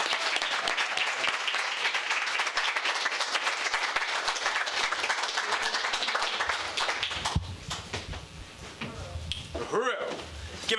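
An audience at a socialist party national convention applauds in a dense, steady burst of clapping that thins out after about seven seconds, with cheering and voices mixed in.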